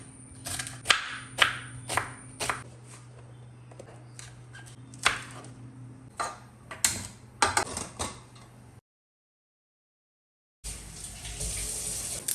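Knife chopping onion and green chilies for a green peas curry: a run of irregular, close knocks on a board over a steady background hum, then a brief silence and a rush of broadband hiss.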